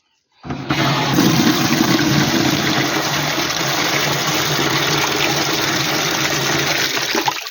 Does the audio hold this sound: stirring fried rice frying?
no